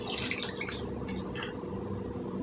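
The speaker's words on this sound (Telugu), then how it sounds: "ఇందులో మనం ఉడకడానికి సరిపడా నీళ్ళు వేసుకుందామండి" Water splashes and trickles into a pot of tamarind-based stuffed brinjal curry, a short close pour with bright sloshing bursts.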